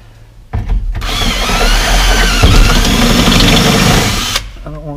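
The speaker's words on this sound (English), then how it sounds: "So let's just try to get these holes drilled out." Power drill boring holes in the door of a 1995 Ford F-150 during window repair, a loud steady whine starting abruptly, running about four seconds at close range, then cutting off.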